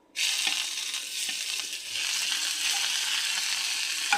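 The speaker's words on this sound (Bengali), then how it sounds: "আদরকটাকে ভালো মতন ভেজে নেবো।" Ginger frying in a pan with asafoetida and dried chillies produces a sudden, steady close-up sizzle that starts abruptly and carries on with faint stirring scrapes throughout.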